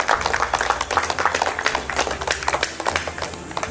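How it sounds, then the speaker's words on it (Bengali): Loud, dense applause from a crowd at a Chhau Bhumi talent contest, steady clapping throughout with scattered sharper claps and no talk. "জোরে একটা হাততালি হয়েছে"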